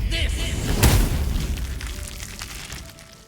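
Gale casts a fire spell in Baldur's Gate, a deep whooshing boom that swells and then slowly fades under a low background, with a voice briefly present.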